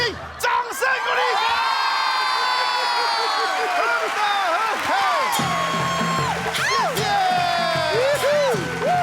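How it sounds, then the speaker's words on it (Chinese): A studio audience on a Taiwanese talent show applauds and cheers, with whoops and shouts over a steady wash of clapping while hosts talk and musical tones ring through. "请掌声鼓励！"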